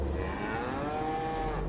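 A cow gives one long, drawn-out moo, a loud, close bellow that sweeps slightly in pitch across its length and stands alone without talk.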